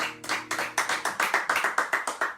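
An audience at a live folk covers performance claps along in a steady, even beat, roughly five claps a second, close and distinct, with a faint low musical tone lingering underneath at the start.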